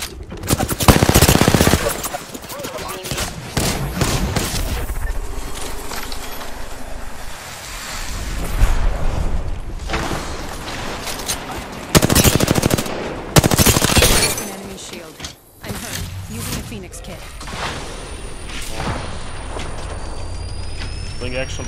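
Video game gunfire in Apex Legends, with loud rapid automatic bursts and heavy shots coming in waves over ongoing game noise, while a player talks over it.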